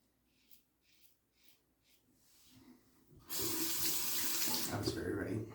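A tap runs to warm a safety razor, a Gillette Red Tip Super Speed, under the stream. Soft handling knocks come first, then a sudden steady gush of water fills the sink, loud and close, with no talk.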